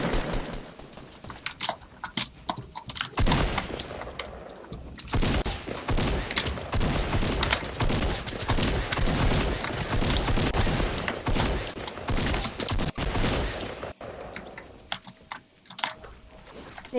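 A shooting video game rattles with rapid bursts of gunfire, dense and loud for most of the stretch, with scattered sharp shots and clicks before and after, and no talking.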